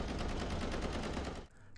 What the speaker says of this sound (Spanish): Se notaba que estaba jugando un juego de disparos a todo volumen.